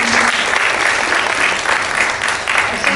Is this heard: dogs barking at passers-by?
no